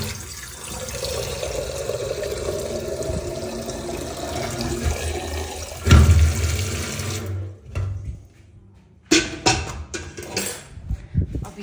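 Water pouring from a tap into a bucket at home, a steady splashing stream that runs for several seconds, then cuts off briefly before resuming with clinks and handling noises nearby.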